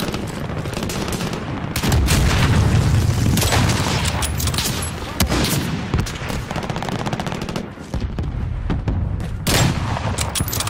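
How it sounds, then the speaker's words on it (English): Precision airstrike in Call of Duty Warzone on the Caldera map: loud, continuous rumbling blasts and rapid crackling impacts fill the whole stretch. "Precision airstrike incoming."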